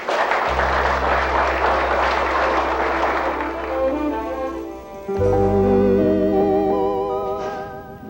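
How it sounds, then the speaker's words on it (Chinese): An audience at a televised variety show applauds warmly, a dense patter of clapping that blends with sustained music and fades as the music carries on. "感谢来宾和小美甲小玲热情的掌声"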